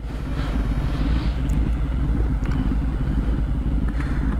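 A loud, steady engine rumble with a deep low throb from a Kawasaki Ninja ZX-10 four-cylinder sport motorcycle with a right-side exhaust, idling and revving close by.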